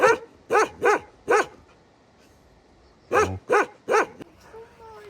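A dog barks four times in quick succession, goes quiet, then barks four more times and ends with a soft whine. The barks are close and loud.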